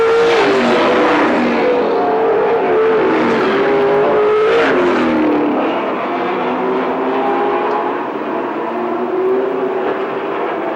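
Race cars roar around an oval track on the final lap, a loud continuous engine drone with a pitch that shifts as cars pass close by, then eases slightly as the pack moves away.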